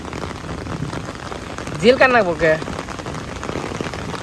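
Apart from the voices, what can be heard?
heavy rain falling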